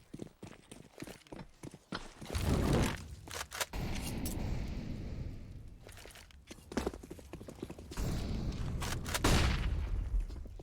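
Rapid bursts of pistol fire from Glocks crackle during a Counter-Strike match on the Inferno map, in clustered volleys and single shots mixed with footsteps and game effects.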